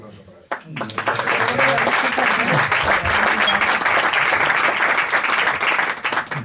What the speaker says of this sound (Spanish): Le cedemos la palabra. Un fuerte aplauso para él.